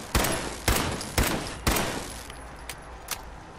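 Machine gun turret in Fallout 4 firing four sharp, loud bursts at a steady rhythm, followed by a few fainter, shorter shots.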